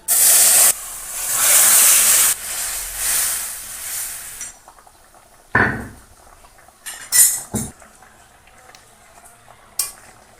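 Ilish fish curry with taro hits hot cumin and bay leaf tempering with a loud, rushing sizzle and hiss for several seconds. The sizzle then dies down into quiet simmering broken by a few sharp clinks of a utensil against the pan.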